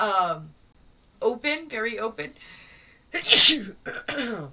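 A single sharp sneeze bursts out between stretches of speech, close and loud.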